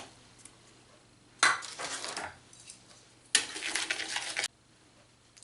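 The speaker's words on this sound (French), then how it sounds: "Dans un récipient, on va mettre nos jaunes d'œufs, le sucre, et on va blanchir ceci." A whisk beats egg yolks and sugar in a bowl in two short bursts of rapid scraping and clinking against the sides, with quiet pauses between them.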